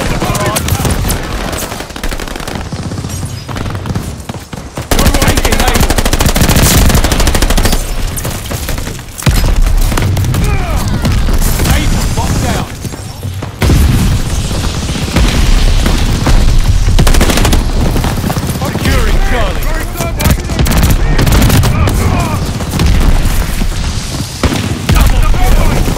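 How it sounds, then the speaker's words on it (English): Mortar barrage explosions and dense gunfire in Call of Duty: Vanguard, loud and continuous, with heavy booms and rattling automatic fire layered throughout and game voices mixed in. "Allies pulling the mortar barrage."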